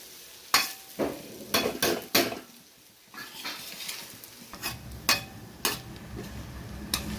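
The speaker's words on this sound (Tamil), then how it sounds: "இதுமாதிரி கிளறிகிட்டே இருந்தால் தான் அடி பிடிக்காமல் வரும். நல்லா கிண்டி விட்டுக்கிட்டே இருக்கணும்." Fish puttu stirred and fried in a pan, with repeated sharp scraping and clanking strokes from the spoon over a soft sizzle, close and irregular in rhythm.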